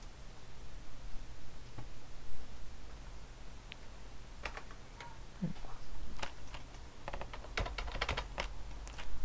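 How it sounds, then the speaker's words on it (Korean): Computer keyboard keys pressed, including a Ctrl and numpad plus combination while working in 3D modeling software for a Minecraft animation, giving scattered quiet clicks and taps at close range over a low steady hum. "컨트롤과 넘패드 플러스를 눌러서 이렇게 선택을 해주시면 됩니다."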